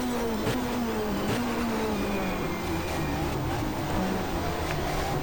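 Touring cars race side by side on a 1994 Asia-Pacific championship circuit, engines droning loudly and continuously with shifting pitch as they run close together.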